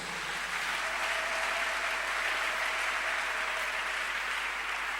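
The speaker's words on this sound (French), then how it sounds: "Acclamons le Seigneur Jésus" A church congregation applauds steadily and loudly throughout, a dense even wash of clapping from a large crowd with no break.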